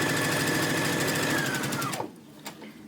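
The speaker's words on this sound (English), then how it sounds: "using my 1/4 inch, I'm going to sew" Sewing machine stitching two rows of a quilt top together with a 1/4 inch seam, running steadily at close range for about two seconds, then slowing and stopping, followed by a couple of faint clicks.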